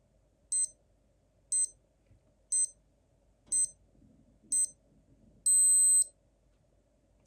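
Casio STR-1000 stopwatch watch on auto start beeping: five short, evenly spaced electronic beeps about a second apart, then a longer final beep, clear and close against a quiet background.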